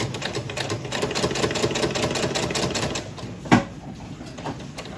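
Sewing machine stitching a quilted Christmas wall hanging, a fast even rattle of needle strokes that runs steadily, then slows and stops with a single louder clunk near the end.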